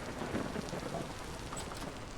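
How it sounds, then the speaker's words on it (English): Steady rain pours with a low rumble of thunder in the Vintage Story video game, a continuous even wash with no voices. "The rain will never stop."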